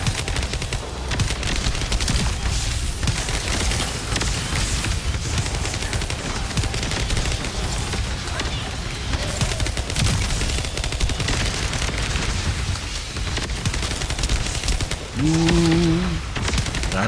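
Sniper rifle gunfire in a video game rings out amid dense, continuous battle noise with overlapping shots and rattling fire throughout, with no talking over it.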